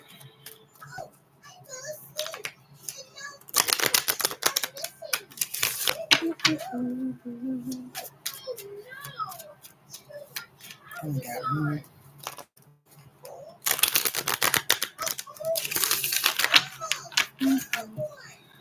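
Tarot cards are shuffled close by in two dense bursts of rapid clicking and riffling, with a voice speaking throughout and quieter card handling between the bursts.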